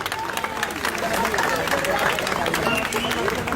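A crowd at a protest applauds Sanjay, steady loud clapping from many hands with voices and murmuring mixed in throughout.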